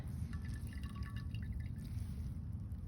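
Liquor drips and trickles steadily back into an indigo vat as a woad-dyed t-shirt is wrung out by hand, a soft continuous patter over a low background rumble.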